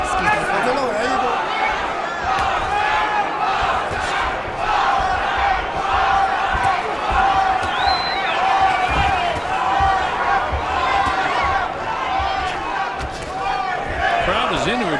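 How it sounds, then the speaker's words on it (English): A boxing arena crowd roars and cheers continuously, a dense wash of voices, shouts and chatter that stays loud and steady throughout. "Crowd is into it cheering."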